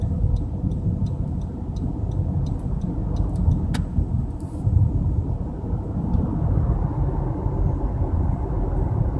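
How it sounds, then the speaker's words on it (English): Interior of a car driving down Main Street, former US 60, in Mesa at night: a steady low road and engine rumble holds throughout, with a few faint ticks and no talk. "just driving down Main Street here at night here in Mesa"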